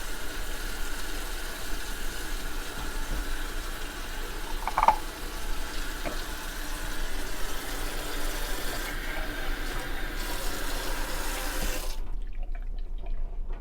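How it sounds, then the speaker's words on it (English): Hot water runs steadily from a kitchen tap to rinse out empty tomato cans while making homemade Italian meatballs and Sunday gravy, a continuous close splashing stream that cuts off abruptly near the end. "My hot water on so I can get my other cans rinsed."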